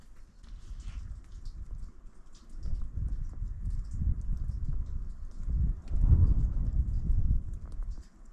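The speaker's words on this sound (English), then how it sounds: "Started raining again." Rain falls during mountain camping, a steady patter on a surface close by that swells louder toward the end, with no voices.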